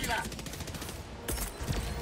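Rapid gunfire and explosive bursts from a co-op shooter video game, with a cluster bomb strike called in, form a dense, continuous barrage that swells louder after a short dip, all under the game's mix.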